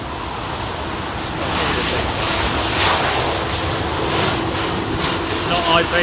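An aircraft departs Heathrow's runway 09 left on a windy day, a loud continuous engine roar that swells slightly partway through and stays strong, with speech faintly beneath it.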